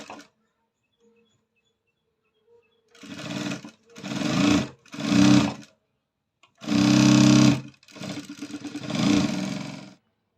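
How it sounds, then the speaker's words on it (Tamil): Electric sewing machine stitching the neck border of a blouse, running in several short bursts of rapid whirring with brief pauses between, loud and close, no talk. "நான் ரெண்டு பார்டரை ரெண்டு பக்கமும் ஜாயின் போடுறத நான் நடு சென்டர்லேருந்தே தையல் ஆரம்பிக்கிறேங்க"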